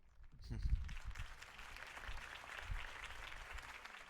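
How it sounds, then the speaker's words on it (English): Crowd applause from a video game, rising after a campaign speech by Harvey Dent, a broad sustained wash of clapping that stays steady for several seconds with low thumps near the start. "If only Mr. Wayne, my campaign's largest backer, could have heard that applause"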